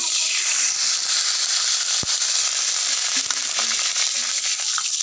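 Ginger, garlic, onion, cumin and two chillies fry in hot oil for dal, a loud, continuous crackling sizzle with scattered sharp pops, close to the pan.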